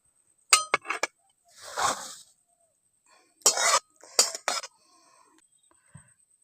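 A pot of boiled taro is lifted off the stove with sharp metallic clinks and clanks in short bursts, plus a softer scraping rustle, close with quiet gaps between.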